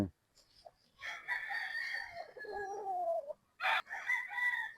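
A two-year-old Golden Boy Sweater gamefowl rooster crows loudly and close, a drawn-out call, followed by another short crowing burst, with no talking.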